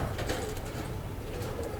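Soft, low cooing from a five-year-old domestic racing pigeon sits under steady background noise, a continuous murmuring coo throughout without clear breaks.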